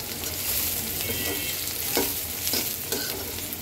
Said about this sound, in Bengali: পেঁয়াজটাকে একটু সুন্দর করে ভেজে নেব।